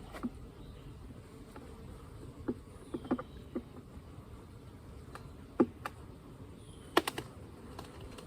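Honeybees stir inside a hive box: a faint, steady buzzing hum with scattered soft knocks and clicks, quiet and close, with no voices.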